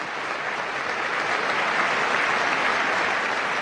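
An audience at the State of the Union claps steadily, a dense unbroken wash of applause sustained at even loudness throughout, with no voices rising above it.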